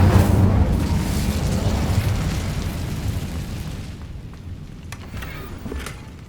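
Incendio fire spell cast in the Hogwarts Legacy video game, a loud rushing burst of flame that roars at the start and trails off into a softer crackling tail with a few faint sharp pops.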